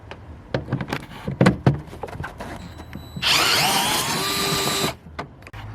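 A power tool whirs for about two seconds backing out a small 8mm screw from the air filter box of a 2014–2020 Sierra/Silverado, preceded by handling clicks and knocks, close and fairly loud.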